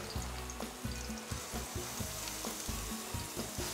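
Vegetables and chili peppers sweating in olive oil, a soft, steady sizzle broken by a regular rhythm of stirring scrapes and knocks, fairly quiet with no talking.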